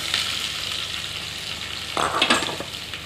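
Cumin seeds and onion frying in oil for a homestyle pasta, a continuous close sizzle that swells into a louder, sharper burst of crackling near the end.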